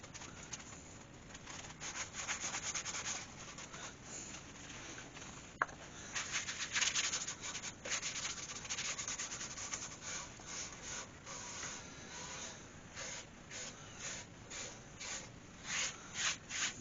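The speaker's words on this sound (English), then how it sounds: "I'll just sand that up." A wooden bowl being hand-sanded, a soft, steady rubbing and scratching that pulses in short strokes, quiet and close, with a brief sharp tap partway through.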